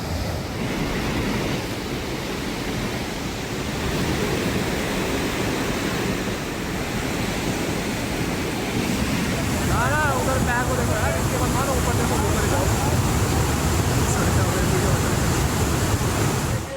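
Fast, heavy floodwater surges after a cloudburst in Dehradun, Uttarakhand, a dense, steady roar of rushing water that fills the whole stretch, with a voice briefly heard partway through.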